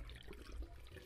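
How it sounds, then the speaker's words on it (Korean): Water runs from a tap in The Crooked Man game as a steady, muffled rushing that fills the whole brief moment at low volume, with no voices over it. "자, 물소리 들리시죠?"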